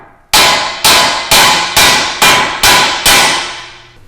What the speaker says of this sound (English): we're going to take a hammer and we're going to hit on this flat spot right here to break this upper ball joint from the steering knuckle